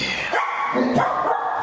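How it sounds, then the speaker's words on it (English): Several dogs barking and yipping excitedly close by in a home kitchen, a short burst of overlapping barks at moderate loudness. "As the dogs absolutely lose their minds."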